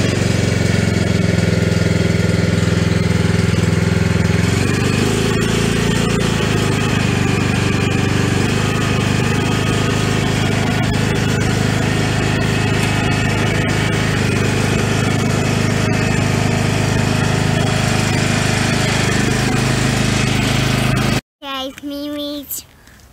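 A new riding lawn mower tractor's engine runs loud and steady at close range, a constant rumbling drone, cutting off abruptly near the end.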